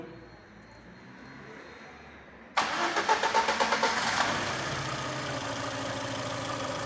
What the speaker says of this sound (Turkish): Bir çalıştır Yusuf sesini duyalım